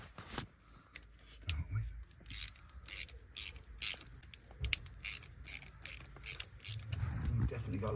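A ratchet loosening nuts on a Harley motorcycle gives rapid bursts of clicking in short repeated strokes, close and fairly quiet, with someone speaking in between.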